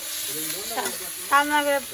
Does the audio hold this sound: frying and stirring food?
yes